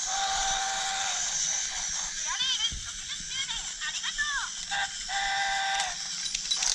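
A Tomy Plarail C62 toy steam locomotive runs over its 60th anniversary action rail and plays a recorded spoken announcement with electronic train sound effects, faint and tinny, rising and falling with the toy's rolling hum.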